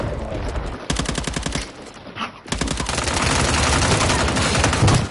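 Rapid automatic gunfire in the video game Warzone rattles in loud, close bursts, a fast stuttering volley, a brief pause, then a longer sustained stream of shots with a dense, roaring tail.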